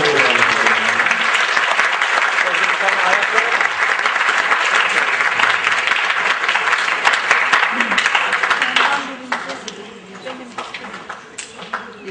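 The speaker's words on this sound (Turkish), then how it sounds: "Alkışlar efendim." Applause from the audience at a Quran school's forty-hadith competition, loud and sustained for about nine seconds before thinning into scattered claps beneath a voice.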